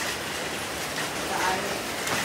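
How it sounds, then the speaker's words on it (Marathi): Heavy morning rain falls as a steady broadband patter, while voices talk over it. "पाऊस किती पडतो बघा सकाळी सकाळी. एवढा पाऊस."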